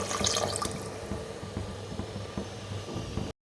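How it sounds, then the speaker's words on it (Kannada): Water pours steadily into a pot of soaked rice for vegetable pulao, four glasses to two cups of rice, a continuous close splashing gush that stops abruptly at the end. "2 ಕಪ್ ಅಕ್ಕಿಗೆ 4 ಗ್ಲಾಸ್ ನೀರು ಹಾಕೊತಿದ್ದೀವಿ."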